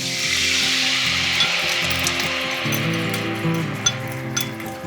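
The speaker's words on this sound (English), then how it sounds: "The rib is boiled and pan fried." A boiled rib fries in a pan with a loud, close sizzle and crackle, while quiet background music plays beneath and a couple of faint utensil clinks sound near the end.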